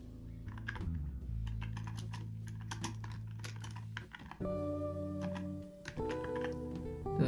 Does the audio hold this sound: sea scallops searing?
no